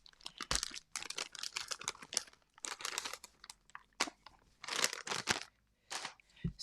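Paper and baby wipes crinkle and crunch while being handled to clean an ink-covered stencil in mixed media art, close-up rustles in uneven bursts with short pauses between them.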